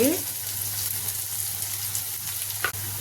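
Thinly sliced onions and green chillies fry in a pan with a dense, even sizzle and a faint scrape of stirring, close and steady for a few seconds under a low hum.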